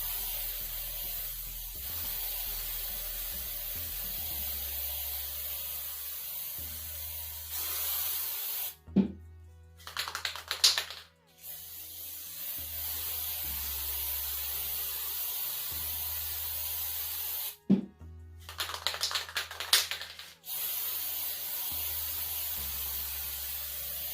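A spray can hisses out paint onto bottles in two bursts of about two seconds each, close and fairly loud, separated by a quiet stretch with light handling sounds.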